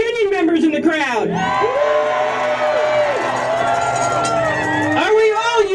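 A rally crowd of union members cheers and whoops loudly outdoors, a sustained roar of yells and shouts with a voice rising above it, near and continuous throughout.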